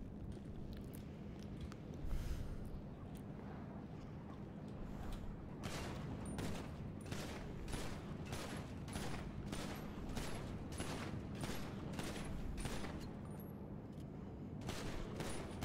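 Repeated gunshots fired at a barricade in the GTA video game, a rapid series of sharp reports in several bursts over a steady low hum, fairly close and loud, with a brief pause midway before shooting resumes.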